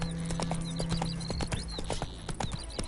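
Roach, Geralt's horse in The Witcher 3 video game, gallops in a quick, steady run of hoof clip-clops, close and clear over game ambience.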